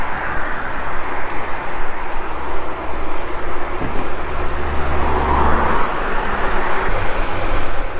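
A delivery rider's scooter engine drones steadily while riding through city traffic, a continuous low motor rumble mixed with road and wind noise, loud and close throughout with no one speaking.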